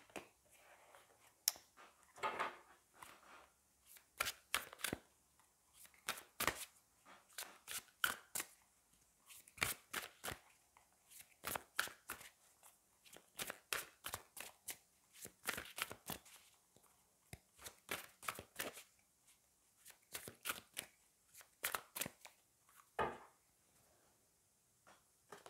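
Fallen Angels oracle cards being shuffled by hand, a long run of crisp, irregular card flicks and slaps, close and fairly quiet, with brief pauses between bursts.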